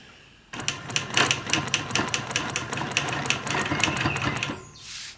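Sewing machine quilting a block with a Petunia ruler, running in a fast, steady stitching rhythm for several seconds, close and fairly loud, then stopping with a short soft hiss.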